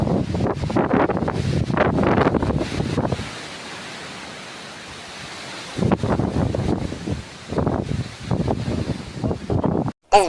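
Cold wind in rainy weather buffets the microphone in loud, rough gusts, dies to a low quiet hush for a few seconds, then returns in choppy bursts.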